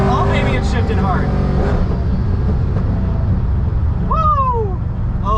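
A supercharged Ford Mustang accelerates hard from inside the cabin, its engine drone loud and steady with rising and falling pitch sweeps as it shifts gears, while people talk and whoop over it.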